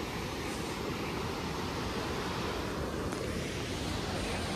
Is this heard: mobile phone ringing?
no